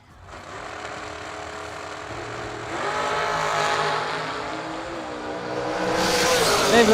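Drag race launch of a 2018 Nelson dragster and a 2017 American dragster, engines building from a low rumble to a loud, rising roar, heard from a distance with a brief crowd or announcer presence.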